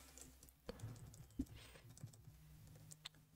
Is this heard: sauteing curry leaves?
no